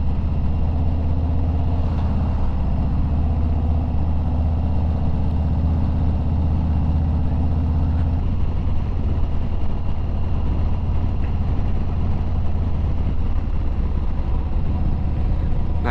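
Motorcycle climbing twisty uphill roads on a solo ride to Bear Mountain, New York, its engine a steady low drone with rushing wind, continuous and close throughout.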